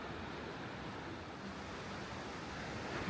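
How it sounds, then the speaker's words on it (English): Steady broadband rush of a river flowing behind a canal near Jokoji Station, a continuous, even, moderately distant water roar with no talking. "There's the scary canal, and behind it, the river."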